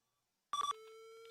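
Duck Hunt on Wii U plays a sharp electronic shot effect when the gamepad fires, a brief buzzy burst that steps down into a steady sustained beep tone, clean and alone.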